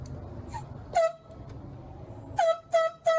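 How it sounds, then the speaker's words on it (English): Short blasts from an air horn sound in bursts, one then a pair of honks after a pause, over faint background rumble. "Biologists later tried again using air horns to flush the bear out."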